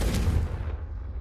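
A Confringo spell cast at candelabras in Hogwarts Legacy: a deep, punchy booming burst with a low rumble that fades within about a second.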